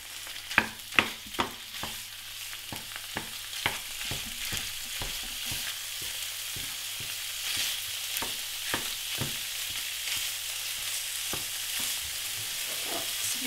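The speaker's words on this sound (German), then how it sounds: "Ich habe mir jetzt neutrales Öl in der Pfanne heiß gemacht. Jetzt gebe ich mein Hackfleisch dazu." Minced meat sizzles steadily in hot neutral oil in a frying pan, with repeated scraping and stirring clicks from a utensil throughout; no one talks.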